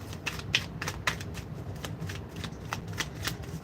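Tarot cards being shuffled in a steady riffling rhythm, with repeated crisp flutters and slaps close to the mic over a low background hum.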